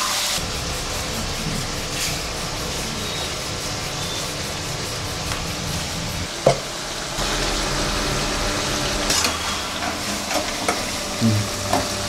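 Tawa chicken fries in plenty of oil on a flat griddle, a steady crackling sizzle with occasional clatters of a utensil stirring and scraping, and no voices.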